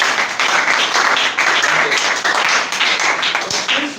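An audience claps loudly and continuously, a dense, sustained burst of applause filling the room without pause.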